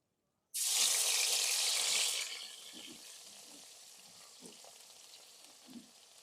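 Ground spice paste hits hot oil with beef for a khichuri, bursting into a loud sizzle that fades after a couple of seconds. A quieter crackle follows, with soft stirring knocks and no talking.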